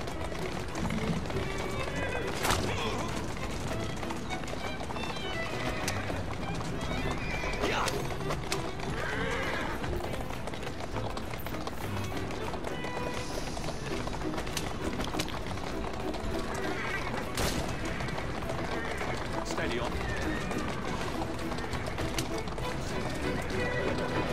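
Horse galloping and neighing in the Assassin's Creed Syndicate video game, with hoofbeats running steadily under dense game sound and people talking throughout, and loud whinnies rising above the mix.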